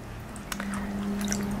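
Fabric fiber being wetted and squeezed in a bowl of one part white vinegar to three parts water, with soft squishing and dripping liquid sounds close by, a faint steady hum underneath.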